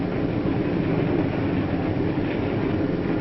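A 1950s passenger train rolls along tracks leading out of town toward the main line, a steady, continuous rumble of wheels and carriages with faint clatter throughout.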